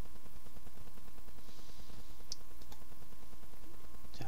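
A single sharp computer mouse click submitting a Google Form, short and close, over a steady low background hum.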